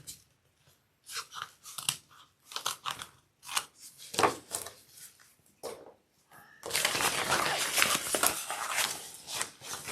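Scissors snipping through fabric zipper tape while trimming it for a sewn convertible bag: a string of close, crisp cuts with short pauses, then a longer dense run of rapid snipping and rustling toward the end.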